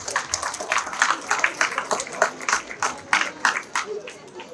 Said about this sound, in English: applause, where are the applause?